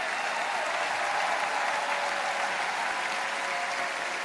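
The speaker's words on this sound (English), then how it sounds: "they all deserve a big round of applause for all the artists of the 60th Eurovision Song Contest" A large arena audience at the Eurovision Song Contest grand final in Vienna applauds the artists, a loud, dense, continuous wash of clapping with a faint crowd murmur underneath.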